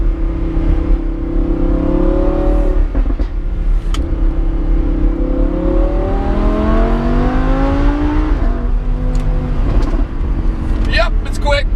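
A Lamborghini Huracan Spyder with paddle-shift gearbox, 604 horsepower and four-wheel drive accelerates hard, its engine note rising steadily through the gears, loud and continuous, with a voice talking over it.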